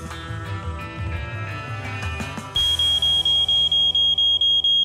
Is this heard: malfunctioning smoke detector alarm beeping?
yes